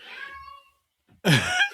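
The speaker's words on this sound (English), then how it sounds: "one of my cats is meowing" A pet cat lets out a short meow indoors, heard faintly near the start, then a person begins talking right after.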